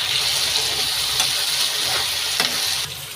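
Chicken frying in a pan just after fresh lemon juice is squeezed in, a steady close sizzle with stirring scrapes and faint watery crackle throughout, easing slightly at the end; nobody speaks.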